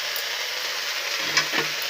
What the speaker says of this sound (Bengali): এখানে কালো জিরাটা একটু গরম হতে দিয়েছি